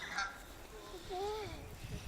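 Canada geese honks rise out of a steady outdoor background in a snowy park in January, a few drawn-out calls at moderate distance, one clearer honk in the middle.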